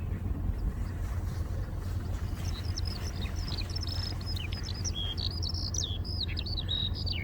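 A skylark sings continuously with fast, warbling high chirps over a golf course on Cleeve Hill in the Cotswolds, faint against steady low wind or engine rumble.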